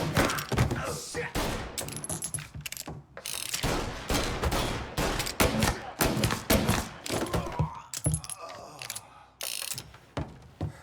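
Rapid gunfire in a tense shootout in the video game Mafia Definitive Edition, loud bursts of shots and mechanical clatter packed densely through the scene, with voices shouting over the shooting.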